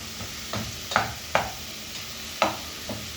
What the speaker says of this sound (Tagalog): Yan guys, gigisa natin sa kamatis.